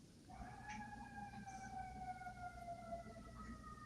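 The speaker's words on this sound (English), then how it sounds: "If you hear the fire engines behind me," Fire engine sirens wail in the distance outdoors, a steady rising-and-falling tone carrying over low background rumble with no talking.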